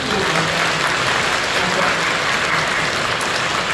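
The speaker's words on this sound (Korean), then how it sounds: "우리 성도님들 뜨겁게 박수로 환영해 주시기 바랍니다." Church congregation at a Sunday service in Incheon applauding warmly to welcome newcomers, a full, sustained wash of clapping from many people filling the hall without pause.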